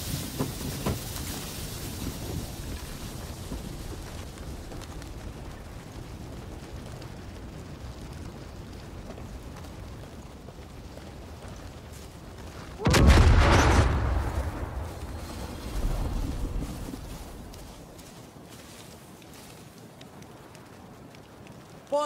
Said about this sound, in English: There was like explosions and gunfire